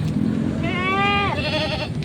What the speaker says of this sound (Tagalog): Ayan, mga kambing dito.